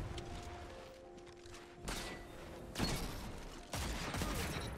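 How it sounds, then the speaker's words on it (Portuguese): Bursts of weapon fire in the shooter game Destiny 2 arrive in three loud clusters after a quieter stretch, sharp and close, with no voices over them. "Tiro."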